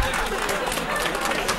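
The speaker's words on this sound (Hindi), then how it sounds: "सौरभ जी, तालियां आपके लिए बज रही हैं" A studio audience at a televised Delhi political debate applauds in a continuous, even burst of clapping that fills the whole moment at moderate volume.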